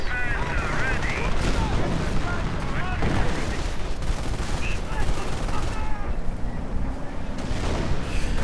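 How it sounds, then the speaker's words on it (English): Machine gun fire from a Company of Heroes battle, dense crackling bursts blended with battlefield explosions and distant rumble, steady throughout with no clear pauses; a commentator's voice may be faintly mixed in. "Opening up on the machine gun crew."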